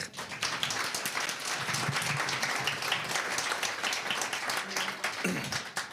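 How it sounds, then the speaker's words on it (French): A church congregation applauds a speaker during a Sunday service, dense steady clapping filling the room with a few voices mixed in. "Bravo Jérémie, on peut l'applaudir."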